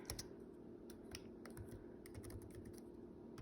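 Computer keyboard typing: rapid irregular clicks of keys being struck in quick bursts, close and quiet against a low steady background hum, with no one speaking.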